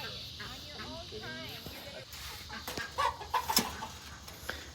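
A brown and black rooster clucks on a farm, with short calls rising in the second half over an ongoing voice talking nearby.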